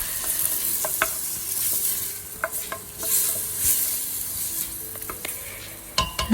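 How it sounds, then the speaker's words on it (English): Grated garlic, grated turmeric and cut onions sauté in oil in a pot for oxtail balbacua soup, a close steady sizzle with intermittent sharp clicks of a utensil stirring, no voices. "a pot with put a oil, a garlic grated, and 2 teaspoons of grated turmeric and some cut onions, and saute everything"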